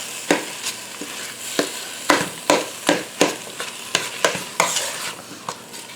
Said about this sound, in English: I'm going to stir this around for just a second.